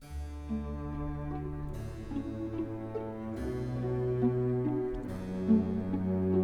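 Pachelbel's Canon in D plays as a slow, stately instrumental melody over a steady bass line, with sustained string-like tones swelling gradually in loudness; no voices.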